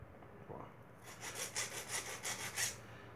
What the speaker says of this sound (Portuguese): vou tirar na lima aqui